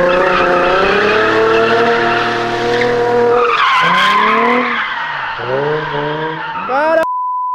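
A car pulls hard away from a car meet, its engine revving through rising pitch sweeps while tires squeal loudly and continuously, close and dominant throughout before cutting off abruptly.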